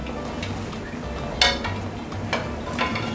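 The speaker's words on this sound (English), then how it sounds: "I also like to put a little bit of the hot oil on the top so it can start cooking comfortably." Puerto Rican alcapurrias fry in very hot oil, giving a steady low sizzle with a few brighter crackling bursts and some soft stirring or pan sounds, close by and with no talking.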